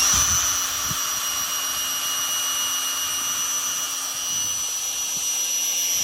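A power drill whirs steadily at low speed in first gear for the whole stretch, a constant motor drone with a faint high whine and no talking.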